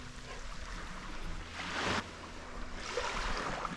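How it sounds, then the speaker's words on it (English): Ocean waves wash at a boat anchorage as a soft, steady rush with a gentle swell building midway, faint and distant, with no voices. "the sound of the waves"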